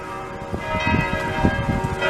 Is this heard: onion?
no